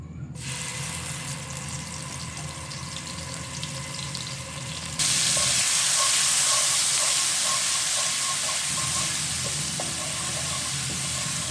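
Garlic sizzles in hot cooking oil in a pan, a steady frying hiss that jumps louder partway through and carries on close and continuous without talk.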